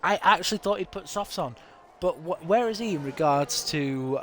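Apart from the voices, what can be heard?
No everyday noise stands out behind the speech.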